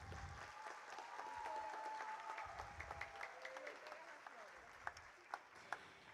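An audience claps at an annual gala, a steady moderate round of applause heard from a distance, fading toward the end with a few louder individual claps standing out.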